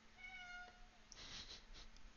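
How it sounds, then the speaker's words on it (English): A hungry house cat meowing for dinner, one drawn-out tonal meow followed by softer, breathier mewing sounds, close but fairly quiet, with no talking. "Sorry, that's my cat."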